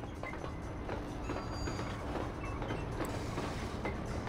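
A train rolls along rails in the video game Red Dead Redemption, giving a quiet, continuous mechanical rumble with light clicking and faint metallic tones, without speech.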